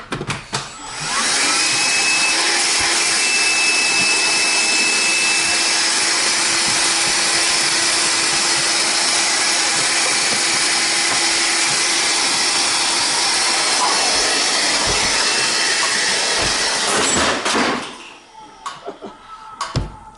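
A Hoover cyclone vacuum cleaner roars steadily for about sixteen seconds as it sucks up cat litter and sunflower seeds, with a loud, constant whine over rattling grit. It then cuts off, leaving a few faint clatters.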